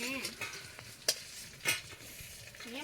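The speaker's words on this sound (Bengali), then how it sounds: "মাছ ভাজা হবে" Catfish frying in a pan for a home-cooked lunch, with a steady soft sizzle and stirring scrapes, plus a few sharp clinks and spatters standing out along the way.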